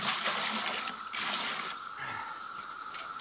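Water pours steadily into a pail for making clay slip, a continuous close rushing stream with slight shifts in flow and no talking.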